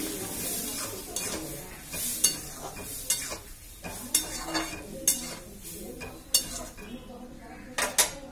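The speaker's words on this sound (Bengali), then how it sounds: "জল দিয়ে আর কষছি না, একদম ঢেলে দেবো ডালটা" Dal is poured into a hot, sizzling pan and worked with a spoon, bringing a busy run of metal scrapes and clanks against the pan over a frying hiss, fairly close and loud.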